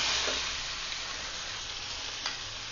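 Onions and tomato sautéing in a pan for chicken masala give a steady, close sizzling hiss with faint stirring scrapes throughout, and no voices.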